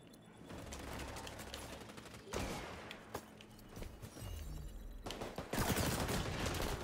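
SMG fire in the shooter game XDefiant, rapid bursts of automatic gunfire with sharp cracks and impacts, moderately loud and continuous over several seconds without talk.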